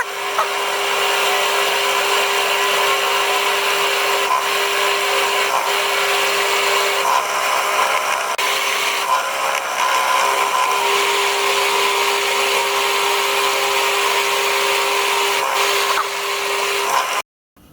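A power drill boring into a metal steam-engine cylinder whines steadily and loudly for the whole stretch, with a constant high tone and slight variations in load, then cuts off abruptly at the end.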